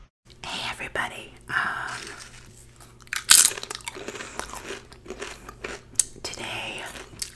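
Close, crisp crunching and chewing of a ham and cheese sandwich with pickle chips, irregular bites and mouth sounds interspersed with soft whispering.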